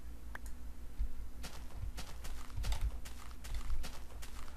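A cow walking in the Minecraft video game gives soft, irregular clopping footsteps, close and fairly quiet over a faint steady background hum, with no talk.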